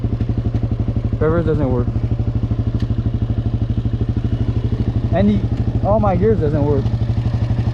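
A vehicle engine idling with a steady, rapid thumping pulse near a swamp while its gears fail to engage, loud and close, with someone talking over it.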